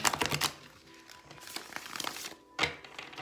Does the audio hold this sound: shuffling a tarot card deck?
yes